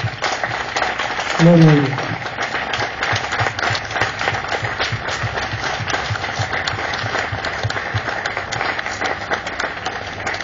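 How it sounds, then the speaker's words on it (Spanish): A church congregation claps during a Spanish-language sermon, a steady, busy patter of hands running throughout, while a voice briefly calls out over it near the start. "Le damos un aplauso al Señor, hermanos"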